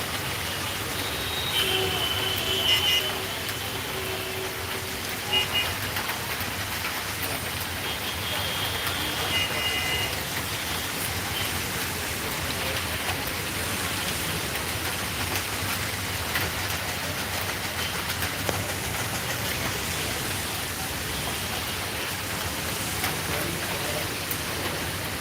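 Steady rain falling outdoors in Sylhet, Bangladesh, a soft continuous hiss of drops on surfaces that stays fairly faint and even throughout, with no voices.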